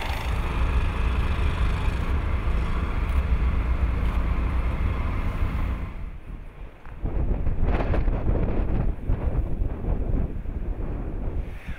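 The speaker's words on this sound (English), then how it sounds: "It's blowing a force 6 out there" Steady force 6 wind at sea buffets the microphone, loud and continuous, with a brief lull midway before gusts pick up again alongside faint rattling.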